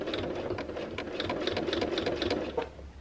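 Sewing machine stitching steadily while quilting with a Clarity ruler foot guided along a ruler, a fast continuous rapid needle clatter held close and loud throughout, easing off only at the very end.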